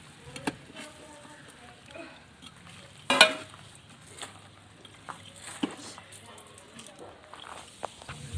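Kerala-style chicken perattu with tomato paste being stirred in a pan: intermittent spoon scrapes and soft knocks over a faint sizzle, fairly quiet and close.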